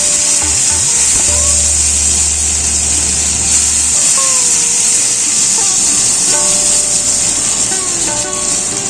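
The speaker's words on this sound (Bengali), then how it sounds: "এদিকে কিন্তু আমাদের পাতুরিগুলো ভাজা হয়ে গেছে" Chicken paturi wrapped in banana leaf fries in a pan with a steady, close hiss of sizzling oil throughout and a low hum near the start; no one speaks.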